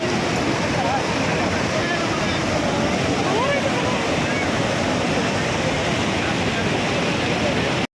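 Water from four crest gates of Linganamakki dam in Shimoga district roars loudly and continuously. The rushing is broadband and unbroken, with wind buffeting the microphone.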